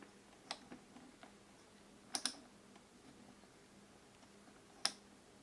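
A torque wrench clicking on an AMD 2950X Threadripper CPU socket, a few faint ticks followed by two sharp clicks close together and another single click later, quiet and close.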